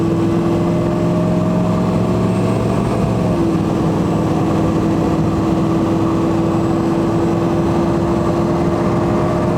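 Ford 6.0L Powerstroke diesel truck under steady three-quarter throttle, a continuous loud engine drone with a sustained tone that shifts pitch slightly partway through; constant and close, with no talk.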